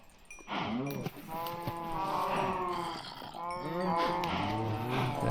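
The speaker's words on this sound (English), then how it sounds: "So let's just feed these cows here." Several cows moo in Minecraft, repeated drawn-out bellows that overlap one another at close range, with a voice talking faintly underneath.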